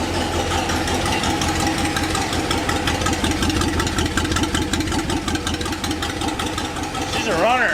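A Ford F100 pickup's carbureted engine, revived after sitting nine years, runs steadily and loudly throughout, with a brief revving swell near the end and people talking over it.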